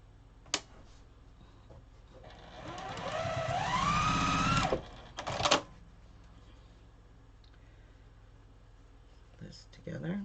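A sewing machine running for a couple of seconds as it stitches fabric, a steady close mechanical whir that rises in pace, then stops, with brief clicks before and after and a voice in the quieter parts.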